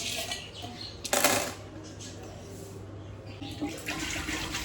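Plain water splashes and runs while a fish tank pot is rinsed without soap, with a brief louder gush near the start and steady trickling and sloshing after.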